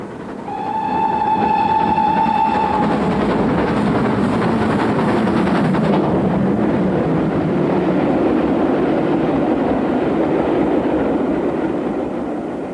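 A Great Western Railway steam locomotive's whistle blows for a couple of seconds, then its heavy train rumbles and clatters steadily past through the Chilterns, loud and close throughout.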